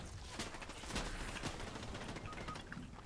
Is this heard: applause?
no